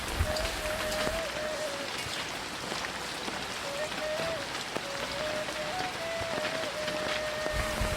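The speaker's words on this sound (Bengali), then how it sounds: "চারদিকে এখনও ঝুম বৃষ্টি পড়ছে" Heavy rain pours steadily onto a village pond, a dense even hiss of drops on water, with a thin whistling tone drifting in and out over it.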